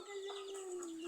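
A single drawn-out, fairly quiet call from a backyard chicken kept in a small indoor space, holding one steady note for about a second with no talking.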